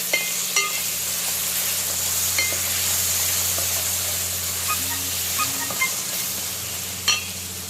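Onions and curry leaves frying in a pan for mutton curry, a steady close sizzle with occasional clinks of a spoon stirring, no talk.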